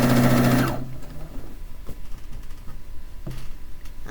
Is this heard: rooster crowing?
no